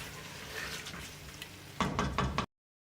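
Cumin, black pepper and spices frying in oil for chicken haleem, a soft steady sizzle that gives way to several louder stirring scrapes near the end before cutting off.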